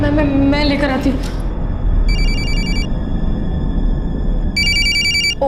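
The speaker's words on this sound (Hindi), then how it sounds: "पराग का फोन है।" A telephone rings indoors in a domestic TV drama scene, two bursts of bright electronic trilling separated by a pause, heard over a low background hum after a brief voice at the start.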